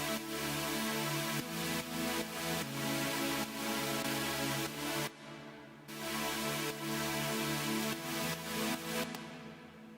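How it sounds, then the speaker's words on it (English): Super saw synth playing simple sustained chords, a bright, thick buzzing tone with chord changes and brief gaps, alone and fairly faint. "this is a super saw"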